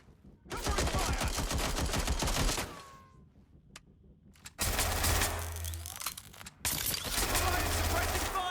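Bursts of rapid automatic gunfire from Watch Dogs: Legion rattle loudly in two long volleys with a short lull between, plus scattered single shots and game sound effects.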